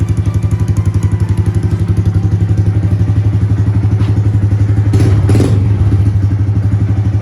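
A Honda Grom motorcycle engine runs close by at a steady, fast idle, its even pulsing loud throughout, with a brief rise in clatter near the end.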